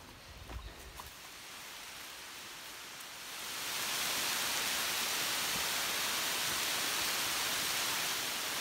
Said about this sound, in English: it held off as long as it could, but here it comes.